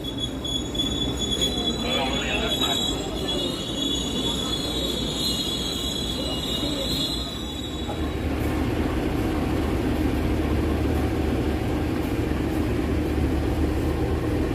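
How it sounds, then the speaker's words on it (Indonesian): A local train departs from a station near Bandung, with wheels squealing in a high sustained whine that fades, and a steady rumble of rolling cars under light background chatter. "Kereta api lokal yang ada di sebelah kanan saya ini berangkat."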